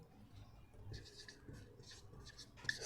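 Chalk or marker scratching on a board during an electrical machines lecture on shunt-wound DC generators, in short faint strokes that repeat with pauses in a quiet room.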